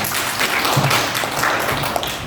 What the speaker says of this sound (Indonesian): Tepuk tangan dulu pada Bu Masmin.